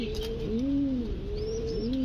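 Bombay pigeons coo in soft, rolling, low calls, several overlapping phrases repeating steadily with no talking.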